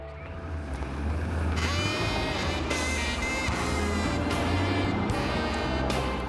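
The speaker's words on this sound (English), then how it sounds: "That motor's a brand new crate motor, so all we gotta do is get the gas tanks on and fire it." A motorcycle with a brand new crate motor fires up and settles into a loud, steady engine rumble with a rising rev at the start, heard up close throughout.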